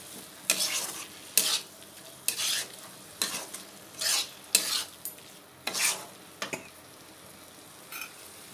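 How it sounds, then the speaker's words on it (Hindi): Tomato and spice masala with turmeric and salt roasts in a pan for a fish head curry, a soft steady sizzle broken by about ten regular scraping stirs of a spoon, with no talk. "मसाला अच्छे से भून लेती हूँ।"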